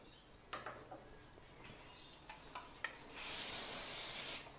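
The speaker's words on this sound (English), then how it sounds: "So this hairspray on this one holds it into place." A single sustained burst of hairspray from an aerosol can, held close, hissing loudly for about a second and a half, after quiet comb and hair-teasing rustles during a cheer hairstyling session.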